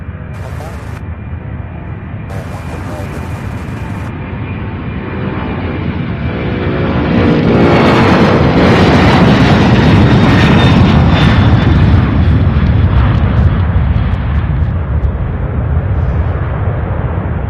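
A UPS cargo jet taking off at Louisville International Airport, its engine roar swelling over several seconds into a loud, sustained rumble and holding strong to the end.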